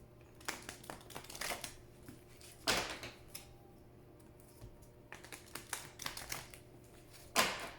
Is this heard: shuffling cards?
yes